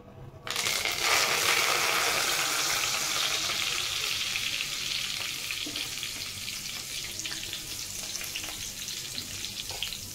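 Fresh coriander leaves fry in hot oil in a pan over a low flame while making poha chivda, a loud steady sizzle that starts abruptly and slowly fades a little, with faint stirring clicks.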